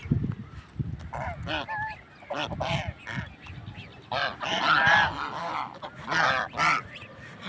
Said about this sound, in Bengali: দেখেন কি সুন্দর রাজা হাঁস